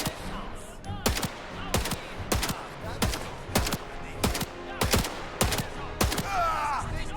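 Gunfire in the Indiana Jones and the Great Circle video game, with about ten sharp, loud shots at fairly regular intervals over a constant background of game noise.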